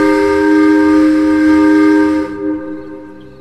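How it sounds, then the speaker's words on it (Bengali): A steam locomotive whistle sounds loud and steady for about two seconds, a rich chord of harmonic tones over a rumbling base, then cuts off sharply, leaving a faint fading echo. No one speaks. "ইঞ্জিনের হুইসেল শুনতে পেলাম।"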